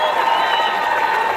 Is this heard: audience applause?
yes